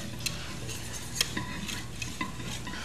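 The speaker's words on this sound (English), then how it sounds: "that wire whisk is always good when you're making a roux" A wire whisk stirs a roux with wilting vegetables in a pot on the stove, a steady soft scraping and swishing with faint metallic clinks over a constant low sizzle.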